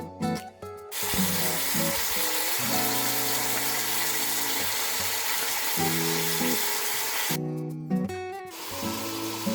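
Meat sizzling in a pan with softened onions and ginger garlic paste, a steady loud frying hiss throughout, broken by occasional spoon stirs and clanks, with no talking.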